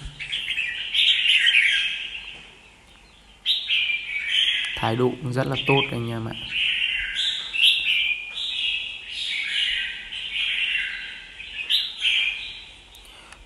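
Three young wild-caught red-whiskered bulbuls from Kim Bôi, Hòa Bình chirp and sing in bright, repeated phrases close by, nearly continuous, while someone talks over them partway through.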